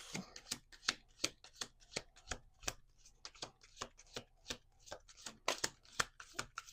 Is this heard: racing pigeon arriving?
no